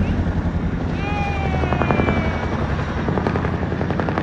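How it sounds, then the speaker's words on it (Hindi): Loud, steady rotor and engine roar of a Chinook helicopter passing close overhead, filling the whole clip with a deep, thumping drone. "आज हमारे घर के बिल्कुल नज़दीक में चीनू हेलीकॉप्टर जा रहा है"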